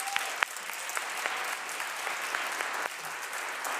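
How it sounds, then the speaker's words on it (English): An audience at a poetry recitation competition breaks into applause, a dense, steady patter of clapping in a hall with a few sharper individual claps standing out. "Let's give another round of applause to you guys."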